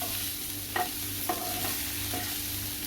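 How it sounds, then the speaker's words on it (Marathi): French beans and freshly grated wet coconut stir-fried in an open pan give a soft, continuous sizzle, broken by a few sharp spatula scrapes, close and alone. "आणि अगदी एक मिनटं आता परतायचं आहे ओपन मध्ये"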